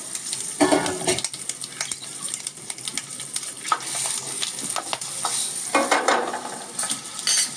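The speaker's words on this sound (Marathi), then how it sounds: "छान तळल्या गेल्या पाहिजेत त्या फोडणीमध्ये" Green chilies with mustard seeds, asafoetida and turmeric sizzle in hot oil for a tempering, a steady close frying crackle with bursts of stirring and pan scrapes throughout.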